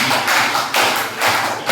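A crowd at the Iqbaliya 2024 inauguration event claps hands in unison to a counted chant, making a few rhythmic, loud, broad slaps in quick succession.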